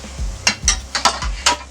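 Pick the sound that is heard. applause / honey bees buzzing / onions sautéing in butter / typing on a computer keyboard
onions sautéing in butter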